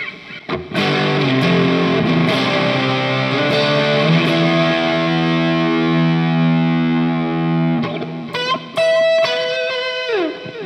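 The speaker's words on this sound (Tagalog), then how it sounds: "meron siyang nakaset agad na built-in distortion" An electric guitar runs through the built-in distortion of an M-VAVE Cube Baby effects unit, a loud sustained, fuzzy chord ringing for several seconds, then a few quick distorted notes and a sliding bend at the end.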